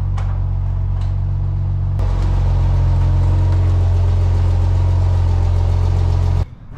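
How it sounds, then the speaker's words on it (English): A Porsche's engine hums steadily at a low idle as the car is pulled onto a trailer, a close, continuous rumble that swells slightly, then cuts off abruptly at the end. "time for the fun part, pulling that Porsche back in."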